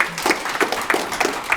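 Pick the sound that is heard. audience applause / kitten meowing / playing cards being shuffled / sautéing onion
audience applause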